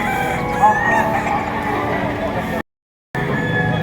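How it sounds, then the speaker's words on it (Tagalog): Several chickens and roosters crow and cluck close by at a poultry market in Padre Garcia, Batangas, overlapping in a busy chorus, with a brief silent gap. "Napakarami ang nakatambang na manok sa kanila."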